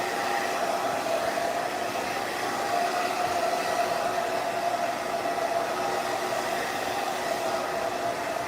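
A hair dryer blows steadily at close range, a loud continuous rushing whoosh with an even hum that holds without a break from start to finish.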